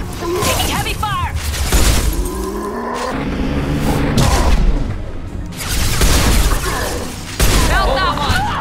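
Heavy gunfire in the sci-fi shooter Mass Effect 2, with bursts, booms and shattering impacts in repeated waves, loud and close, under game dialogue.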